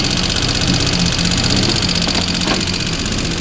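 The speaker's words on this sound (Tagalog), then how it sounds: "Okay, click 125. Noisy engine." A Honda Click 125 scooter with a noisy engine idles close by in a continuous, loud, rough mechanical hum, with no talking over it.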